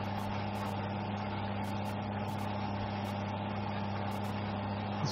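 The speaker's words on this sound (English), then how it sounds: "This tractor's cultivating and seeding at 15 miles per hour" A tractor cultivating and seeding in the Farming Simulator 15 video game, a steady droning engine hum with constant tones and no change across the stretch.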